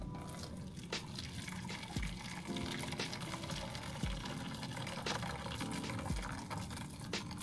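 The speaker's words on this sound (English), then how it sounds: "when I pour it back in this container, I'll cook the leftover eggs in here" Liquid egg mixture being poured back into a container in a kitchen, a steady soft pouring with small splashes and drips, fairly quiet and close.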